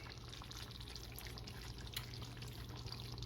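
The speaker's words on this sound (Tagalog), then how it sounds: "Dagdagan ko ng konting tubig." Water poured into pork menudo as it cooks in a pan, giving a steady sizzling, bubbling hiss at moderate level that runs throughout with no talk.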